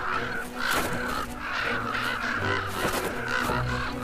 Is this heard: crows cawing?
yes